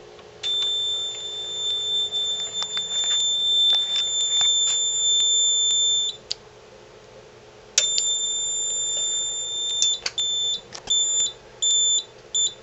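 A CTWBA photoelectric smoke detector sounds its alarm during a test, a loud piercing electronic tone holding for several seconds, stopping, then returning in longer and shorter bursts close by.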